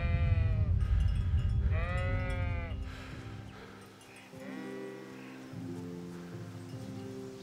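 Sheep bleat repeatedly in the video game Kingdom Come: Deliverance, several loud overlapping calls up close, with a steady background hum beneath them and fainter bleats trailing off toward the end.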